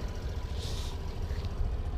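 Soft, steady low rumble of a Suzuki Burgman 125 Street EX scooter engine idling quietly nearby, even and unbroken with a faint hiss above.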